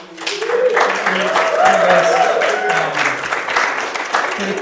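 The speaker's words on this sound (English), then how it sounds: "let's give a round of applause for Terry" A round of applause for Terry from the audience at a church retirement seminar, steady clapping throughout with a voice carrying over it.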